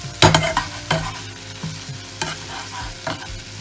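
Oil sizzles in a frying pan for a broccoli, spinach and tomato frittata, with sharp scraping stirs and clinks breaking up a soft crackle over a few seconds.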